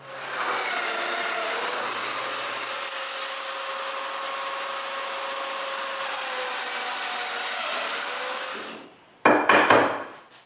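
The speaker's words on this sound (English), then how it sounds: "I mark the domino's mortises placement and cut them" Domino joiner running for about nine seconds with a sustained whine while cutting mortises in wood, then winding down, followed by a few short bursts.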